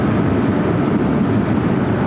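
A Boeing 777-300ER airliner bound for London Heathrow passes at Los Angeles airport, a loud, steady broadband engine roar with no pauses for its whole short span.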